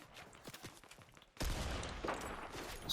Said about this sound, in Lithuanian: Su snaiperiu mane bando. Snaipina.